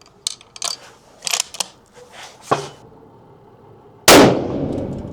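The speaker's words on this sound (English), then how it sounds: "that was a big bang" A 6.8 Western rifle firing a 170 grain hand load lets off one loud, sharp gunshot near the end, and the blast rings out in a long decaying tail. Earlier come scattered clicks and handling noises.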